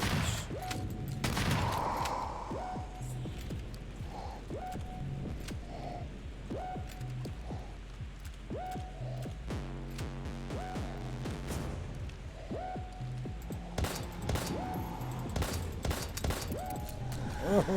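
Gunfire in the video game Daymare: 1998 crackles in rapid bursts and single shots throughout, mixed with short electronic tones, moderately loud and steady.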